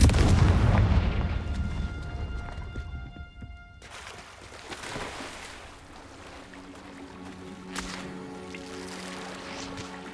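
Confringo fire spell blasting in the video game Hogwarts Legacy: a heavy, booming explosion with a rumbling tail at the start, then quieter crackling debris and game ambience, plus a sharp impact near the end.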